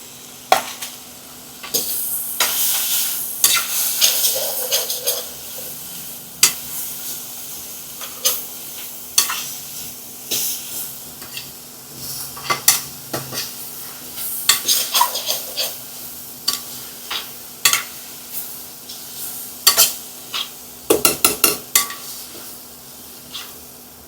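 Chopped green chillies frying in a little oil, a steady sizzle with frequent sharp clinks and scrapes of a spoon against the pan as they are stirred, close by, with a faint steady hum and no voices.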